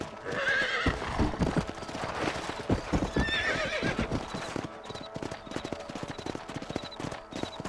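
Horses walk in the Red Dead Redemption video game on Xbox Series S, with steady, prominent clip-clop hoofbeats and whinnies and neighs over them, and no talking.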